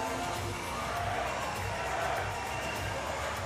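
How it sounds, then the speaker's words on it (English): Arena crowd at a wheelchair rugby match between France and Great Britain at Paris 2024, a loud, steady roar of cheering and whoops filling the space without a break. "Listen to the crowd."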